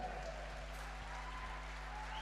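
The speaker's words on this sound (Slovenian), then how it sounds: "dajmo jim en velik aplavz prav za to" Applause from a concert audience for a band at a live holiday event, a steady wash of clapping held at an even level throughout, with a low steady hum underneath.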